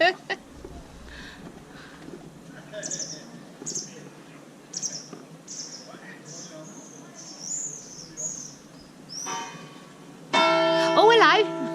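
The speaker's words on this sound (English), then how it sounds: "I guess that was the bell." A church bell rings out loud and clear near the end, with strong sustained ringing tones, after a stretch of courtyard ambience with bird chirps and murmuring voices at a small vegetable market in Honfleur, Normandy.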